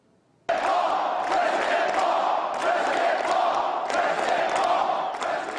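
A large crowd of more than 1,700 people roars and cheers for Ron Paul at a rally in the Ritchie Auditorium at the University of Maryland, bursting in suddenly and holding a loud, sustained, dense roar with shouts rising through it.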